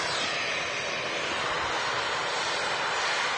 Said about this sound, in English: Virgin taxiing out to Orlando. Another A330-300.